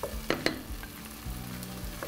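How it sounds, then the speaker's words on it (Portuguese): Tomato paste frying in a pan, a steady hiss and sizzle broken by a few sharp clinks and scrapes of a spoon stirring, close and fairly loud with no voices. "O extrato precisa ter uma fritura."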